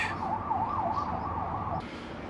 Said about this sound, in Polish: karetki jeżdżą